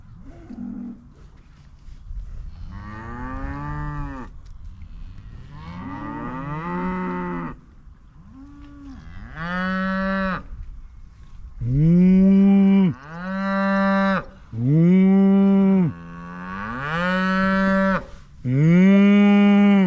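Several cows moo repeatedly at close range, long drawn-out calls coming one after another, growing louder and more frequent toward the end, with no talking.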